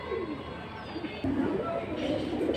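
Large pigeons at a bird market coo in low, soft, rolling calls, with a murmur of voices and crowd noise around them.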